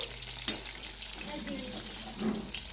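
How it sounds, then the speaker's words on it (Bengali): Pieces of chicken fry slowly in oil, giving a faint, steady low sizzle with occasional soft clinks and bubbling. "আস্তে আস্তে ধুকড়ে ধুকড়ে ভাজা হচ্ছে"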